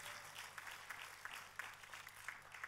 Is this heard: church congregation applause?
yes